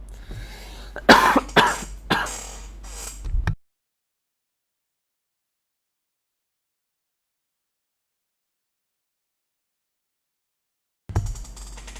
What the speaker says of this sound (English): just having a coughing fit here